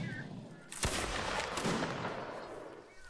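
Musket volley fire in the video game Warband NW (Napoleonic Wars), a sharp crack followed by a ragged burst of overlapping shots and rumbling echoes, with voices shouting orders underneath.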